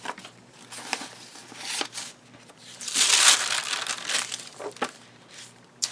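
Journaling paper is handled inside a large pocket of a handmade shore-bird journal. Crinkly rustles and soft crumpling come close and alone, with a louder burst of handling in the middle.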